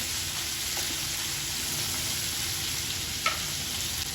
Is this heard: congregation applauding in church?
no